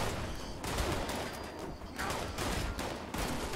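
Heavy gunfire from several directions aimed at the player in the post-apocalyptic video game Fallout 76, dense overlapping bursts and volleys running continuously at steady loudness throughout.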